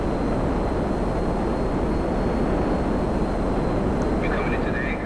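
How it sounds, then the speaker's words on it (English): An F-160 Raiju jet in GTA Online coming in to land, a constant loud roaring engine and wind rush filling the whole stretch, with a brief voice near the end. "let's go ahead and land this jet right now."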